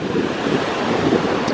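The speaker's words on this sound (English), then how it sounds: "And the waves are huge." Big ocean waves breaking on a pebbly black sand beach in Iceland, a dense continuous roar of surf mixed with gusting wind buffeting the microphone, loud and close with no talking.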